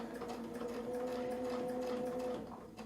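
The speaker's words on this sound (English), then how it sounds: "I'm just going to sew up the outer edge." A home sewing machine quilts along the outer edge of a tile template, giving a steady, fast mechanical whirr of stitching that runs on its own for a few seconds before easing off.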